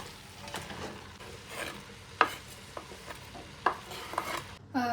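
Cabbage frying in a pan for borscht, a soft low sizzle punctuated by several sharp clinks and scrapes of a utensil against the pan, close and fairly quiet.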